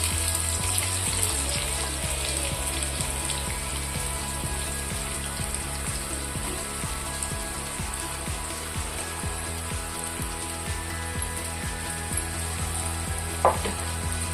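Chopped onions sizzle steadily in hot oil with cumin seeds in a pan for a restaurant-style corn curry, a constant close crackle with occasional stirring clinks and no talking.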